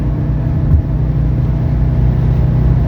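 Inside a 1983 Mercedes 300CD pulling up to highway speed, a loud, steady low engine and road drone fills the cabin with no distinct rev change.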